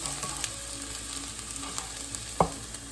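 Garlic sautéing in a pan, a close, steady sizzle with a few soft taps and one sharper clatter near the end, no talking.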